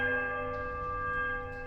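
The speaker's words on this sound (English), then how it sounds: "Bell sounds strange, rubbling," Large temple bell in the fantasy game Pillars of Eternity tolling a low, powerful note, its rich sustained hum ringing out steadily and slowly fading.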